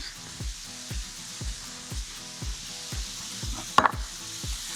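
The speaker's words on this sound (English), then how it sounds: "While the proteins are cooking" Proteins frying in a little oil in a hot pan for pad thai, a steady close sizzle with soft rhythmic stirring or tapping about twice a second and one brief sharper clatter near the end, no talking.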